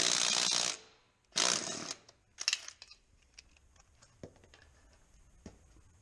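A power tool whirs in two short loud bursts as its trigger is pulled on button head bolts, followed by clinks and rattles of loose parts. A quieter pause sits between the bursts.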